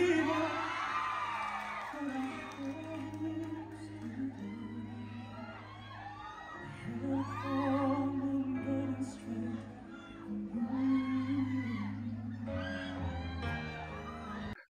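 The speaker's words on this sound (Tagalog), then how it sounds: "Grabe yung hiyawan ng mga fans" Concert fans in Norway scream and cheer in loud, sustained whoops and shrieks that rise and fall in waves, with someone talking over the crowd throughout.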